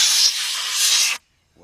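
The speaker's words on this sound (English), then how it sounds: "Just blew out all the dirt and grit and everything that was in there." A loud, close hiss of compressed air blowing dirt and grit out of an Audi A4 Quattro engine, one sustained blast just over a second long that cuts off abruptly into silence.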